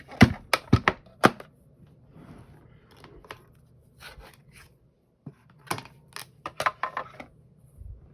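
Mini die cut and emboss machine at work, giving sharp clacks and ratcheting clicks in two bursts, close and moderately loud, separated by a quieter stretch of faint rustling.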